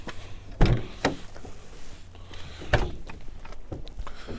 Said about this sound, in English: these back doors will open up as well